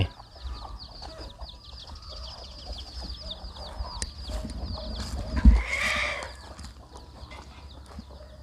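Backyard chickens cluck and murmur at a moderate distance over a low outdoor rumble, with one louder knock or thump partway through.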